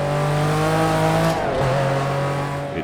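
A race car engine in a racing sim holds a steady high note, briefly stumbles and drops on an unblipped gear shift around the middle, then picks back up and pulls hard, loud and close throughout.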